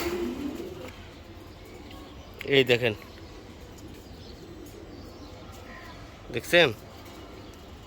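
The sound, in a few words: pigeons cooing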